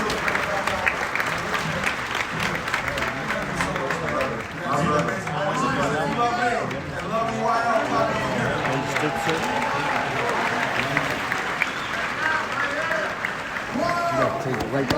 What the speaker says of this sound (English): Let's clap it up for Peter and an amazing advice.